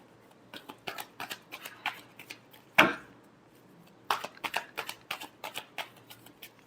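Tarot cards are shuffled close up in quick bursts of crisp riffles and taps, with a sharper slap near the middle and a pause before a final run of rapid shuffling.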